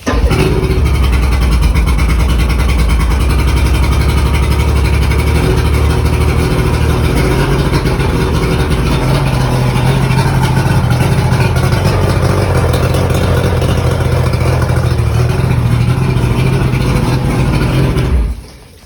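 A 1963 Starcraft Mariner boat engine runs steadily with a deep, loud rumbling drone that holds for a long stretch before cutting off abruptly at the end.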